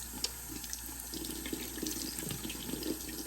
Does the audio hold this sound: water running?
yes